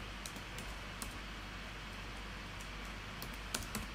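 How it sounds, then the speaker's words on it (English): Light typing on a computer keyboard while entering a title in editing software, soft scattered key clicks over a steady background hum, no talking. "I'm just going to type in APBTV."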